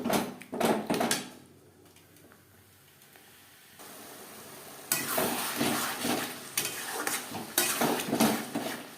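Dhaba-style chicken is stir-fried with spices and red chilli powder in a pan, with scraping, clinking stirs and sizzling in bursts, a quieter simmering lull midway, then vigorous stirring again.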